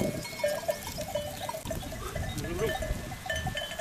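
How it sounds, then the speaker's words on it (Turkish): Breeding goats on a farm bleat and call with an old shepherd's flock, several overlapping animal cries over a busy rural background, fairly near and steady, with no speech. "Bunlar anaç keçilerimiz."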